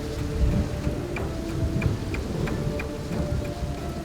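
Heavy storm rain pours down steadily at a building site, a dense wash of drops with low rumbles beneath and occasional sharper ticks standing out.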